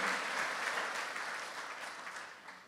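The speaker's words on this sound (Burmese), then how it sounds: "ယေရှုလက်ခုပ်တီးပြီးတော့မှဂုဏ်ပြုကြရအောင်" A church congregation applauds together, a steady wash of clapping that holds for a few seconds and slowly fades, with no voices standing out.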